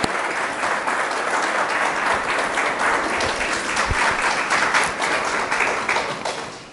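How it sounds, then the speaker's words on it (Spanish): An audience at a church gathering gives sustained applause, many hands clapping together in a dense, even patter that holds for several seconds and then begins to thin toward the end. "Le damos un aplauso a vosotros."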